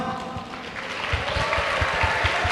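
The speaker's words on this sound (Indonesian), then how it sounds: "Aplaus." Applause from the audience at a vocational school graduation ceremony in Banda Aceh, a steady, moderately loud wash of clapping with low thumps running through it.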